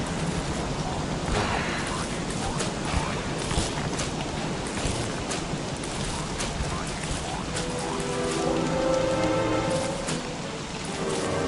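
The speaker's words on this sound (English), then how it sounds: "Oh, rain." In the Don't Starve Reign of Giants game, rain falls as a steady, dense patter and hiss that continues throughout, with a voice talking over it at times.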